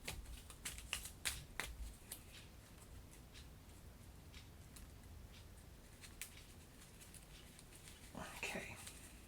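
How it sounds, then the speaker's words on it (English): Cards for the Kingdom Death Monster board game are slid into a deck and shuffled at a table, giving soft papery riffles and taps, quiet and close, with talk between them. "put those in the deck. So go slide them in the middle here and give this a shuffle"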